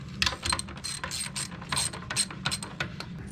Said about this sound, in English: with our 9/16 ratchet, we're going to take out these 6 bolts.